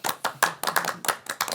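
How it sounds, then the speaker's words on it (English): A short burst of hand clapping from a small group, with sharp irregular claps packed closely together, up close and without talk. "Give yourself a round of applause."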